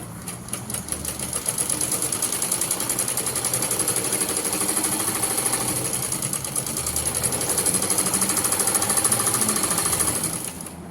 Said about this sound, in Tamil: ஸோ இப்போ அதே மாதிரி இன்னொரு லைன் தைச்சிட்டு வரலாம்.